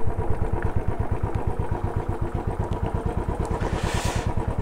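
A motorcycle engine runs steadily and loud during a winter ride through Spiti, its rapid, even thumping pulse dominating the whole stretch with no one talking.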